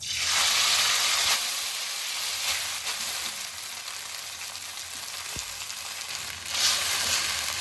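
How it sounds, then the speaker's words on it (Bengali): Washed and dried chowmein noodles fry in white oil, producing a loud, close hiss that surges at the start and again near the end, with faint stirring underneath. "সাদা তেল এবারে ধুয়ে শুকিয়ে রাখা চাউমিনগুলো আমি একে একে দিয়ে দেবো"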